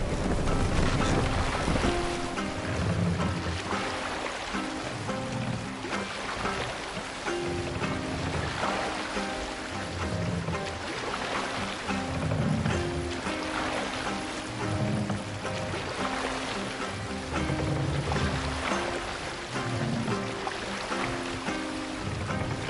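A Viking ship under sail in the Assassin's Creed Valhalla video game on PS5, with steady wind rushing and waves washing against the hull, mixed with a continuous background score and no talk.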